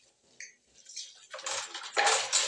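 Dishes, glasses and cutlery washed in a kitchen sink, with clinking utensils and splashing water that grow louder toward the end, close up and without talk.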